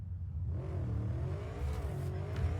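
A motorcycle engine in Cyberpunk 2077 revs up from silence, its whine rising and wavering over a low rumble, fairly quiet and alone.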